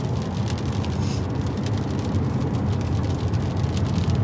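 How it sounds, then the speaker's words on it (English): A BMW E39 M5 with its V8 engine driving, a steady low rumble with road and wind noise inside the car, constant and fairly loud. "Man, that V8 is so smooth."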